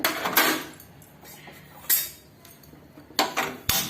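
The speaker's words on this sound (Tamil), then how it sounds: "நல்லா கிளறி கொடுத்து" A spoon scrapes and clinks against a metal pot while stirring cucumber pumpkin kuzhambu, a few sharp knocks between quieter scraping, close and alone.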